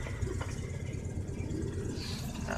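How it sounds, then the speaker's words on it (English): A truck's engine runs steadily as it drives down a neighborhood block, a moderate mid-low droning hum that stays even throughout, heard close with no talking over it. "Sounds like a pretty truck right there"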